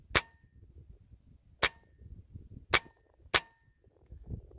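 A Benjamin Kratos .22 air rifle fires NSA slugs at a target: four sharp, separate shots with metallic ringing impacts, spaced roughly a second apart over a quiet background.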